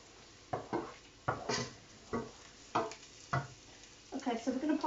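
Red onions fry in a pan, stirred in several distinct scraping bursts over a steady low sizzle, with a denser clatter of stirring toward the end; no one speaks.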